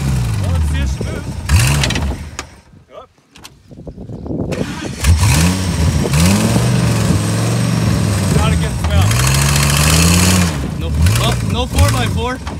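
A straight-piped Ford F250 Super Duty V10 truck engine revs in repeated loud surges with rising and falling pitch, close by, broken by a short quieter gap, as people talk over it.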